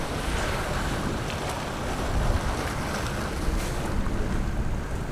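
Sea waves and wind at the seaside make a loud, continuous broadband rush, with surf swells rising and falling and gusts buffeting the microphone, and no voices.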